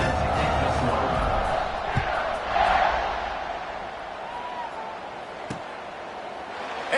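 A stadium crowd in the College Football 25 video game roars in a broad, sustained wash of noise, swelling briefly before settling into a steady din with a couple of sharp thuds.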